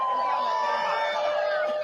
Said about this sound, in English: Crowd's just loving it.